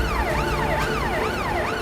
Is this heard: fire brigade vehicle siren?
yes